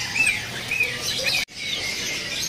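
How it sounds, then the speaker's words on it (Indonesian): Bright, quick sooty-headed bulbul chirps repeat over a busy background hum at a bird market kiosk, broken by a brief dropout partway through. "Namanya burung kutilang ini."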